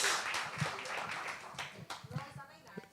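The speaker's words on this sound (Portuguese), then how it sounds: "Uma salva de palmas, pastor Júnior." A church audience applauds pastor Júnior, a faint, distant patter of clapping that fades while a voice talks over it.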